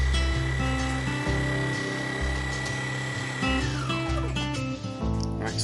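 A Breville Barista Pro burr grinder grinding coffee beans, a loud, continuous close-up whir with a pitch that slides downward near the end as the grind setting changes.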